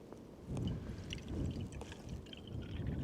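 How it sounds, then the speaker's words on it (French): Water is poured for coffee in a camper van, a soft, faint gurgling trickle that swells and continues steadily for a few seconds. "On va mettre un petit peu d'eau."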